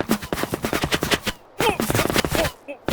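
Bullet impacts striking sand in the VR shooter H3VR, a fast run of sharp cracks and thuds in bursts, with short gaps and a few isolated hits near the end.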